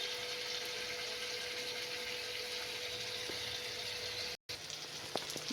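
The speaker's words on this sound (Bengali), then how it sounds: "এবার আমি একটু জল দিব, দিয়ে এবার মাছটা ছেড়ে দেবো।" Hot water poured into a pan of fried spice masala for a Bengali katla kalia fish curry, a steady rushing hiss and bubbling that runs unbroken, cuts out briefly near the end, then resumes with sputtering.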